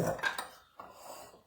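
A spoon scrapes and clinks against a bowl while stirring melted chocolate, a few quick close strokes followed by a softer scraping pass.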